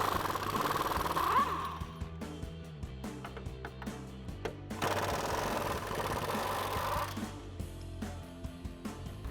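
A power tool with an 18mm socket removes the upper shock mount bolts on a 2015-2024 Ford Mustang. Two separate bursts of rapid mechanical rattling stand out against a quieter background.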